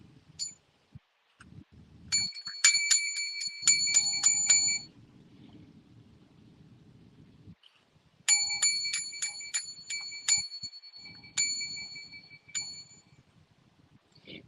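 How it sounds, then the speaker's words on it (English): A bright metallic bell rings in rapid bursts of repeated dings, two separate clusters split by a quiet gap, over a low background rumble. "Where's my bell?"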